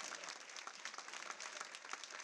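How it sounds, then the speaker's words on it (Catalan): Steady applause from a crowd, dense clapping throughout with no pauses. "Un fort aplaudiment per elles."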